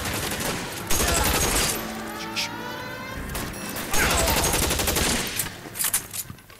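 Shotgun blasts and heavy gunfire in the LA Noire video game, a dense string of loud, sharp bursts with short gaps and a few scattered shots near the end.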